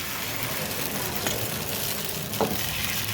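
Beetroot uttapam batter made with curd sizzles steadily on a hot pan over medium heat, a continuous close frying hiss with a couple of faint scrapes.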